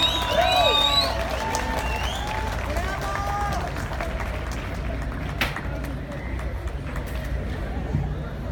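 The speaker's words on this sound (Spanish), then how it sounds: "Otro aplauso" Outdoor crowd at a live concert in Mexico City's Zócalo claps and cheers in a broad, sustained wash, with whistles and shouts early on and a voice speaking over it.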